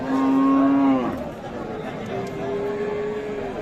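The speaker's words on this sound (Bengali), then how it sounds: "এইখানে দেখছি একটা একেবারে ছোট সাইজের গাভী দেখি" A small dairy cow gives a long, loud moo close by, then a second, quieter and longer moo follows amid a murmur of voices.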